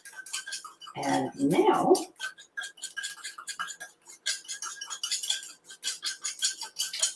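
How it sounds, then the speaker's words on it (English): A whisk clinks rapidly against a bowl while salad dressing is mixed, a burst of metallic tapping followed by lighter intermittent clicks, with a voice speaking briefly at the start. "let's give this a whisk"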